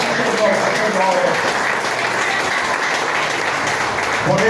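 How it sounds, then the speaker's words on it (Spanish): A church congregation applauds loudly and steadily throughout, a dense, continuous wash of clapping that does not let up. "Dale un fuerte aplauso al Rey de Reyes, Señor de Señores."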